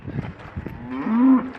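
A cow on a farm gives a single low, drawn-out moo that rises and holds near the end, close by, preceded by soft shuffling and rustling from the herd.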